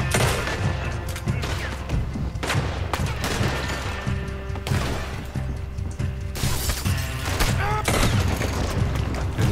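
Gunfire in the Western video game Red Dead Redemption 2; rapid, dense bursts of loud shots and crashing impacts that repeat steadily over several seconds, with a voice occasionally talking underneath.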